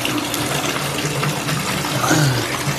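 Warm water pours steadily from a tap into a filling bathtub, a constant broadband rush with no break, fairly close and loud, with no one talking over it.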